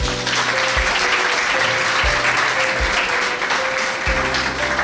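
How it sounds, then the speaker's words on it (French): Steady applause fills an official wedding ceremony at a town hall, sustained and dense for several seconds, with low rhythmic thumps and a faint tone running underneath. "Sous vos applaudissements."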